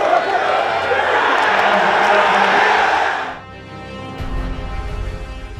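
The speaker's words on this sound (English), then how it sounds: "Student crowd screaming for another score as the Rebels are on the 5" A student section at an Ole Miss Rebels college football game screams in a loud, sustained roar for about three seconds. The roar cuts off abruptly, and low crowd rumble and noise return afterward.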